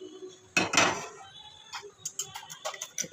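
A utensil clinks and taps sharply against a pan while two eggs are scrambled in reused cooking oil, giving a couple of loud early strikes followed by a quick run of lighter knocks.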